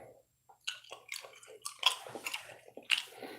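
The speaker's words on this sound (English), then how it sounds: "I was just chewing up the last of that Hubba Bubba gum." Someone chews Hubba Bubba bubble gum close to a microphone, with wet squishy smacks and bites at an irregular rhythm, fairly quiet, with no talk.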